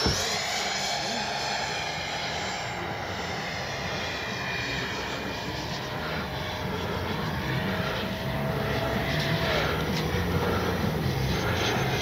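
Freewing JAS-39 Gripen RC model jet with an 80mm electric ducted fan on its maiden flight, a continuous high whine and rushing airflow that holds steady and swells slightly, heard from the ground with faint outdoor background.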